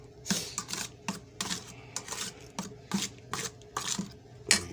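A spoon stirs sweet rice porridge with sugar in a bowl, producing a steady series of quiet scraping and tapping strokes against the bowl, roughly rhythmic and close by, with no talking.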